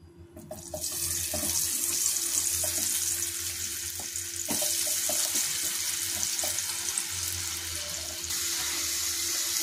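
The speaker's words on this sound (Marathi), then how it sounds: "आता आपण तेल गरम झालेले आहे। आता आपण बटाटा फ्राय करून घेऊया।" Spice-coated potato pieces frying in hot oil, giving a continuous bubbling sizzle that stays steady, with a few soft clinks and knocks of utensils against the pan.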